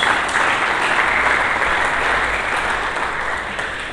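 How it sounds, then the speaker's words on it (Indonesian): A church congregation applauds together in steady, dense clapping that fills the room, loud and continuous without pause and slowly fading slightly toward the end. "Mari kita berikan tepuk tangan bagi Yesus."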